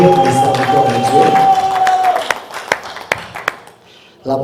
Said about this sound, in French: Et je voudrais quand même que vous applaudissiez pour lui par le Seigneur.